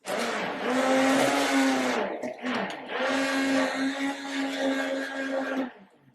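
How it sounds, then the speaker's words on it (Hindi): A hand blender whirs loudly in milk and powder for an ice cream base, with a steady motor whine, briefly dipping and then running again before cutting off. "उसके अंदर हम हैंड ब्लेंडर घुमा देंगे"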